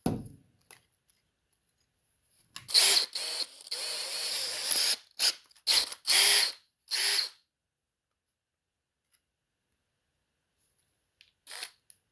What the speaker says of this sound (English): I'm going to use a small drill bit